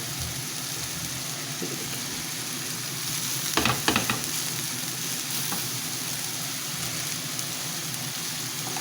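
Eggplants sizzling as they grill in oil over a flame, a steady hiss and crackle throughout with a brief louder spatter burst near the middle.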